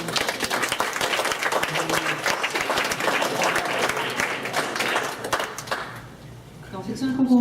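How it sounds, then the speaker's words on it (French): A wedding crowd gives steady applause for the young ring bearer, the clapping sustained and fairly close for about six seconds before fading as a voice and adult talk come in at the end. "Il mérite une main d'applaudissement"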